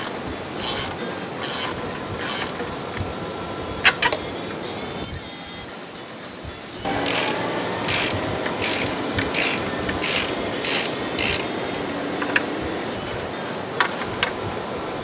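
Ratchet tools work loose parts of a Mercedes CLS 500 rear suspension, including the sway bar end link and track arms, in rapid bursts of close metallic clicking that come in two runs with a quieter scraping gap between.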